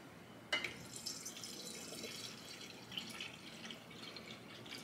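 Tap water runs into a Santevia Mina mineralized alkaline water pitcher, a quiet, steady trickle with light dripping that begins abruptly and carries on without speech.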